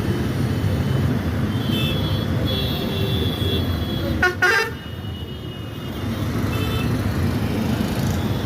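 A vehicle horn toots briefly in heavy road traffic near Shilphata, standing out above the steady roar of engines and road noise with a short burst of honking around the middle of the stretch.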